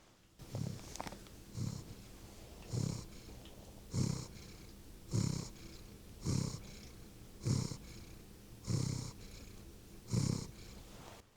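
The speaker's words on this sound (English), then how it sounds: "I wonder if I can get his purrs." A content cat purrs while lying on a sofa, with close, soft, rhythmic rumbles that swell with each breath, about nine steady cycles and no talking.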